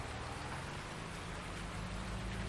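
Steady rain falling in the farming video game Farming Simulator 19, a constant even hiss of drops on surfaces with no talk.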